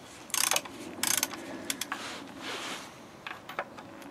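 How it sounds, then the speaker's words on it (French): A wrench ratchets as nuts on a Citroën Traction front axle are loosened during a renovation, two loud bursts of rapid clicking followed by scattered lighter clicks and metal taps. "je vais juste desserrer un petit peu ces écrous là"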